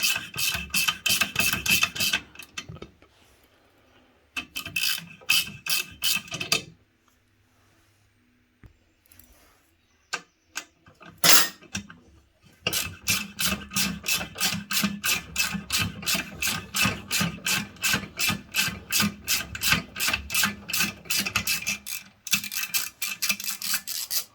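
On a KTM 990/950 adventure motorcycle, a tap slowly recuts the threads for the chain tensioner bolt, making rapid, evenly spaced rasping clicks in long runs with a few brief pauses. Nearby and fairly loud, with no speech.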